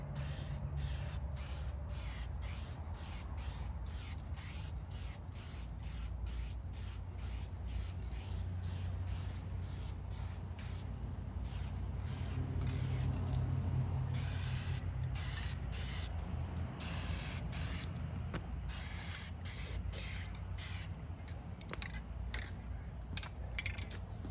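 Rust-Oleum hammered spray paint hisses from a can onto a truck in long continuous bursts, with a rapid rattling tick running through the spray and brief pauses between passes.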